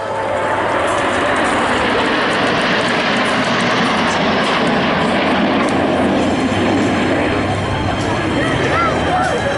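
Patrouille de France jets flying in Apollo formation at an air show at Gap Tallard aerodrome, a loud steady roar of jet engines filling the whole stretch without letup, broad and rumbling.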